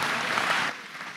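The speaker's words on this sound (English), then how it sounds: "Clap for Jesus." Church congregation claps during a sermon, a burst of many hands clapping together that fades out abruptly partway through the short moment.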